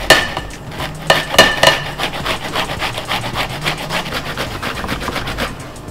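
Zucchini being grated for diet brownies, close up, a run of rhythmic rasping strokes that starts with a few sharp louder scrapes and then settles into a quicker, steady back-and-forth scraping.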